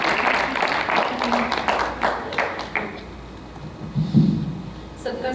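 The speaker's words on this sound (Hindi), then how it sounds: "तालियां।" An audience at a Hindi association event in Houston applauds, a dense patter of clapping that thins and fades partway through, with voices murmuring over it.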